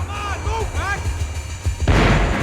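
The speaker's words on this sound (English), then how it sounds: "The bullets came from long range." Long-range gunfire in the video game Max Payne 3: distant, echoing shots and booms under a low rumble, with a brief voice early on and a loud burst of noise near the end.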